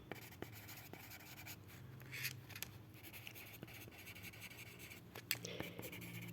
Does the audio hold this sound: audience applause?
no